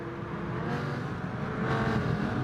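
GT Sport race cars in an esports league race at Sardegna, engines droning and revving steadily as one car overtakes another into a hairpin, a continuous close whir of motors.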